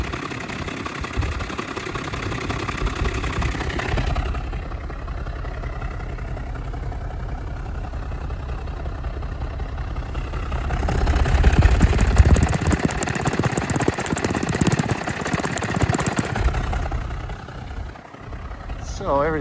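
A Lingenfelter-modified 2010 Mercedes-Benz SL550 AMG Roadster with dual exhaust idles close by. A steady, loud low rumble rises partway through, then settles, with a person talking over it.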